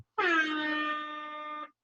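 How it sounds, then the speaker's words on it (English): A single loud air horn blast, steady and brassy, lasting about a second and a half before cutting off. "air horn on that"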